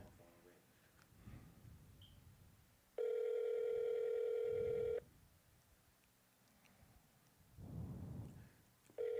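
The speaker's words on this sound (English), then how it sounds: "The phone is ringing." A single long electronic ring tone sounds steadily for about two seconds, loud and clear, between stretches of quiet background noise and faint rumbling.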